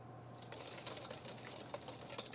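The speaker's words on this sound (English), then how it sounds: "Whisk for about 2 minutes." Egg yolks, sugar, lemon juice and ice wine being whisked in a bowl: quick, light, continuous ticking and scraping strokes, quiet and close, with no talking.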